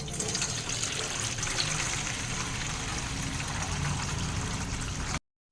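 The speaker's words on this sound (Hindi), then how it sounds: "इसीलिए मैं गोश्त को वॉश कर रही हूँ।" Tap water gushing and splashing as meat for kebabs is rinsed, a continuous moderate pouring and sloshing that stops abruptly just before the end, with no talk.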